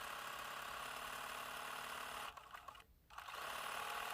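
A sewing machine stitches yellow thread around a fusible appliqué spoon on a quilt block, running with a steady mechanical whir that pauses briefly before starting again.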